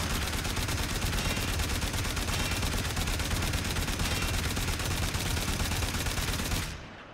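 Sustained rapid gunfire in Warframe, a continuous loud stream of shots rattling for several seconds before cutting off abruptly, with no talk over it.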